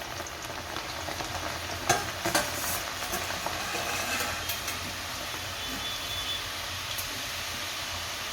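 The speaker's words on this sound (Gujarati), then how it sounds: "તેલ આવી ગયું છે, એમાં આપણે દાળ નાખી દઈશું" Moong dal sizzles steadily in hot oil, a soft, even frying hiss with a couple of brief crackles early on as it goes into the pan; no voices.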